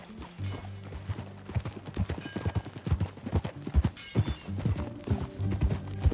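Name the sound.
horse hooves clip-clopping while riding, Red Dead Redemption 2 video game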